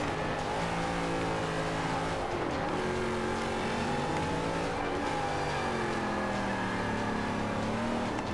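A 2015 Mustang V8 Supercar engine in Forza 5 racing, with a steady loud roar, revs climbing and dropping through gear changes, and a dense, continuous drone.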